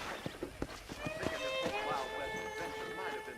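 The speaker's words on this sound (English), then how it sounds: "let's see if you can still ride a horse." Horse hooves clip-clop in a quick, uneven rhythm in the video game Red Dead Redemption, then a voice speaks over a soft, continuing backdrop.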